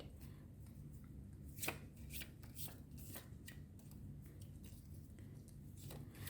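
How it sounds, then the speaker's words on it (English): Tarot cards are shuffled by hand in quick, irregular riffles and soft slaps, fairly close and quiet, with no voices over them. "I will be shuffling for your transparent card"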